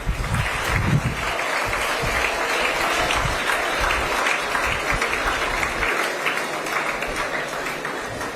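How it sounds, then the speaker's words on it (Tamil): A large crowd at a school event claps loudly and continuously for a minister, a steady dense roar of many hands with a low murmur beneath. "ஆனந்த் பேரை சொன்னோன்னு கை தட்டுறீங்க"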